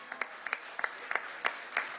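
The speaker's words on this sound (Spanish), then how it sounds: "Más un aplauso a la constituyente, primera combatiente" Applause from an audience at a Venezuelan government housing handover event, heard faint and distant as a soft wash of clapping with regular sharper claps standing out.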